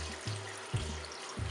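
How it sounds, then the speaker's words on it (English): Hot water pours from a kettle into a pot of Jamaican curry goat, giving a steady close splashing rush with a few low gurgling pulses, and no talking. "So I have my kettle here, and we're going to just go ahead and add in the hot water."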